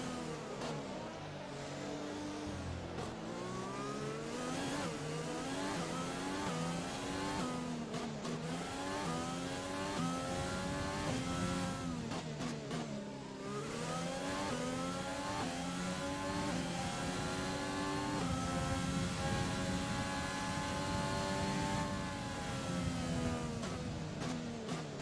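Race car engines in the F1 2020 video game, Abu Dhabi GP, whine and rev continuously with rising and falling pitch sweeps as cars accelerate and shift, steady and moderately quiet.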